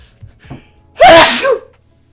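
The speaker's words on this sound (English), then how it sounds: "I'm going to sneeze." One loud, close human sneeze erupts after a couple of faint sharp inhales, forceful and brief, then fades to silence.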